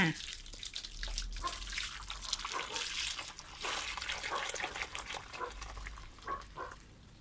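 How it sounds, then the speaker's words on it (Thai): Soy milk is poured through thin white cloth laid in a square strainer, giving a steady splashing, trickling pour that runs for several seconds, close and moderately loud. "เทน้ำเต้าหู้ลงไปเลยค่ะ"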